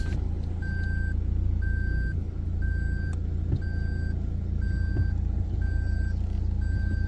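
A 4x4 vehicle sits on soft sand near a campsite, its engine idling as a steady low rumble while a loud, regular electronic beep repeats about once a second throughout.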